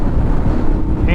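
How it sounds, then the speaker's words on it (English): Heavy wind buffeting a camera microphone on a moving motorcycle in traffic, a loud continuous low roar with gusty rumble through the whole short moment. "and it's windy."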